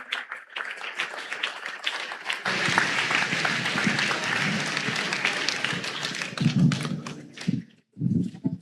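An audience applauding at a New Year greetings ceremony for local residents, with sustained clapping from a crowd in a hall that thins out, breaks off briefly and resumes, with voices mixed in.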